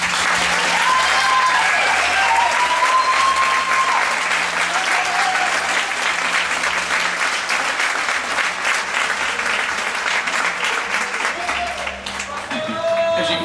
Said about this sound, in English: rise and be given another round of applause.